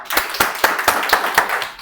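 A church congregation on Christmas Day claps together in a steady rhythm, about four sharp, close, evenly spaced claps per second.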